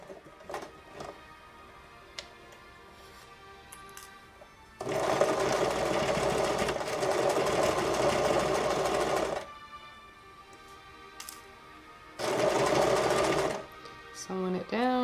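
A sewing machine stitches fabric ear savers in two long steady whirring runs with quieter handling between. A person speaks at times during the quiet parts.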